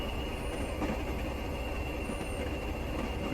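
A Class 20 locomotive brakes on the run from Stranraer Harbour to Dumfries in Train Simulator Classic, giving a steady rolling rumble of wheels on rail with a thin squeal riding above it throughout.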